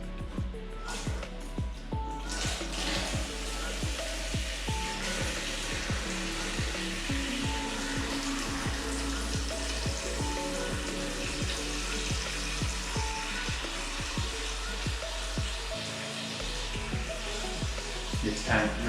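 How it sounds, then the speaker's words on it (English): Aquarium water from a tank overgrown with green hair algae, siphoned into a bucket, pours in a steady, close, continuous splashing rush with a faint voice under it. "I'm going to siphon a tiny bit out into the bucket"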